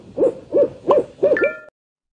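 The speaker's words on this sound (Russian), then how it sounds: "Сейчас мы в лесу, и я видел, что неподалеку спряталась сова." Owl hooting in a forest: four close, clear hoots at an even pace, the last one ending in a thin whistling tone.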